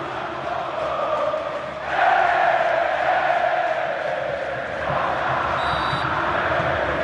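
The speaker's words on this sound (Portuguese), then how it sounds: "E a torcida agora responde." A football stadium crowd roars in response, a broad steady wash of voices that swells suddenly after about two seconds and stays loud, with a slight dip and rise near five seconds.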